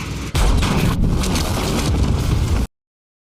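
A loud, broadband rumbling blast from a film battle scene surges suddenly after a short lead-in and roars continuously before cutting off abruptly into silence.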